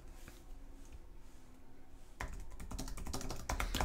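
Quick, close clicking of computer keyboard keys as someone types a short phrase into a web form, faint at first and then a louder, steady burst of keystrokes without speech.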